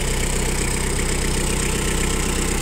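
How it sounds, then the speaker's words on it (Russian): Japanese PROGRESS AVTO mini tractor engine idling evenly and close up, a steady continuous rumble with no talk. "двигатель работает максимально ровно"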